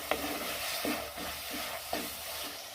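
Shallots and curry leaves fry in a pan for a Kerala fish curry. A dense, steady sizzle carries on throughout, broken by several rhythmic scrapes of a spoon stirring against the metal.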